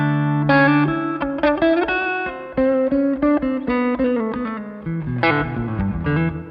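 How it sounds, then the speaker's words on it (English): A distorted electric guitar played through a reverb pedal for a 70s-style reverb plays chords and single notes with a washy echoing tail, loud and close, with no voices. "For a little bit of extra 70s reverb."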